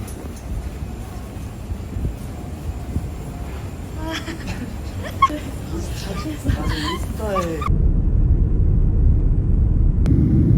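Low steady cabin rumble inside a passenger airplane descending to land in snowy Mongolia in late December, continuous throughout with people talking over it before the drone grows deeper and louder near the end.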